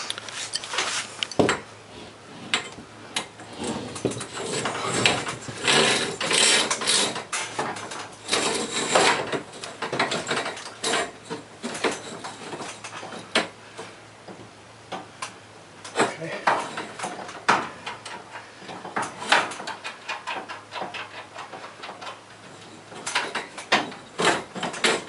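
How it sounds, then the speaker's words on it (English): A new garage door torsion spring being fitted back in place, with metallic clanks, ratcheting clicks and scraping knocks coming in irregular bursts, heard close over a quiet background. "that is the new spring going back on"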